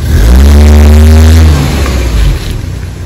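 A 2013 Nissan March 1.5 XS with a 1500 cc engine and automatic transmission, freshly carbon-cleaned, revs up loudly close by, holds briefly, then drops back toward idle.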